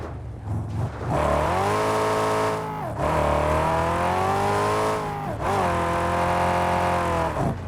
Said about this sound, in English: there's no tyres on this thing, so it is sliding about